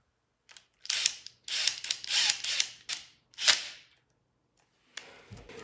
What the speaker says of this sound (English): Tighten these cam bolts up real quick.